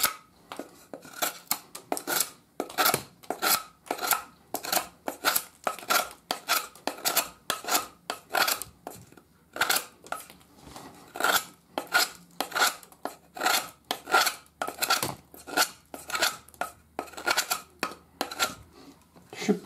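A Kizer Kesmec folding knife carving small chips from wood, with rapid, regular scraping and snapping cuts repeating for about twenty seconds, close and crisp.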